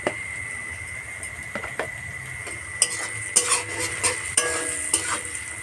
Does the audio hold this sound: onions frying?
yes